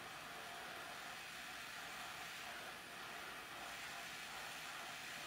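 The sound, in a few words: heating a chunk of foam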